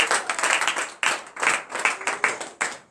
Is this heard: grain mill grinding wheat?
no